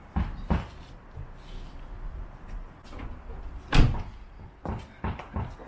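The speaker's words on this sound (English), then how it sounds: "we'll try and knock this leg out" Sharp knocks from hammering a front suspension leg out of a Peugeot 107 hub during a lowering-spring fitting, several loud separate blows spread irregularly over a few seconds with quieter clatter between.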